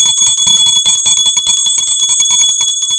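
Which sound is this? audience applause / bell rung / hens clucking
bell rung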